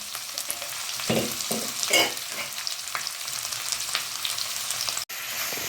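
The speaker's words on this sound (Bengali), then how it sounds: "এবার আমি ক্যাপসিকামগুলো দিয়ে দিলাম ক্যাপসিকামগুলো দিয়ে আবার আমি নাড়াচাড়া করবো" Capsicum and onion stir-fried in refined oil in a pan for paneer chilli, a steady close sizzle with scraping stirs and a few louder spatula strokes, no voices.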